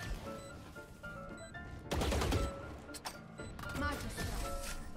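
Video game gunfire goes off in rapid bursts, loud and near, with clustered shots at intervals and a voice talking over the shooting.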